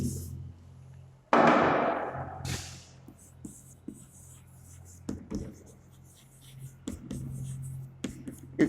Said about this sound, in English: I'm writing over here perimeter